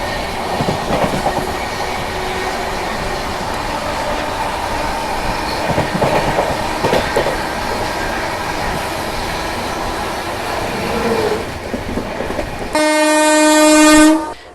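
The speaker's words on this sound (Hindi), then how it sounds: "यहाँ पे ओवरटेक कर रहे हैं हम सौराष्ट्र मेल को" A Duronto Express on the Mumbai–Hapa route rumbles steadily along the rails while overtaking the Saurashtra Mail, and a loud, sustained horn blast rings out close by near the end.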